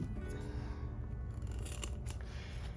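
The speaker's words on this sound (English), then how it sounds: "So cut the fabric, making sure you are not cutting the overlay" Scissors snip through outer fabric during a sewing project, a soft crisp cutting sound heard close and quiet on its own.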